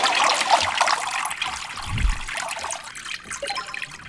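Toilet flush water rushing and trickling in the video game Burglin Gnomes, a loud continuous gurgling wash that swells and fades over a few seconds, with no talk over it.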